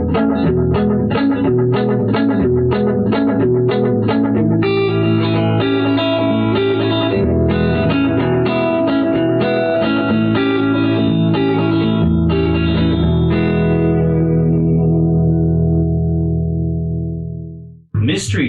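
Electric guitar played through a Ray Butts Echosonic amp with built-in tape echo, picking a rhythmic run of notes with slapback repeats, sustained chords ringing, then fading out at the end, loud and alone.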